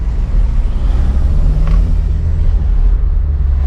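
A Volkswagen MK4 TDI wagon's diesel engine and exhaust drone steadily while driving, a loud, close, continuous low rumble with no talk over it.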